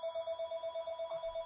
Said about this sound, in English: Oh, sorry, my phone's ringing.